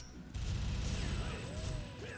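Rapid automatic gunfire from a very fast-firing weapon in the video game TimeSplitters 2, in the Neo Tokyo level. A dense, loud burst sustains for about a second and a half, then tails off into lower game noise.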